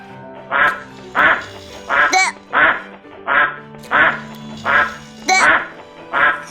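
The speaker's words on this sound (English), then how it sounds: "duck," A duck quacks about nine times in a loud, close, evenly spaced series of harsh, nasal calls.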